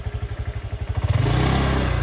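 A motorcycle engine close by, pulsing rhythmically at first, then revving up into a louder, steadier drone as it passes or pulls away.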